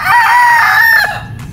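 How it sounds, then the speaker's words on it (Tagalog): A gamefowl rooster, a straight-comb possum sweater bred on a native game farm, crows once, loud and close, its call held steady before trailing off. "Napakagandang manok."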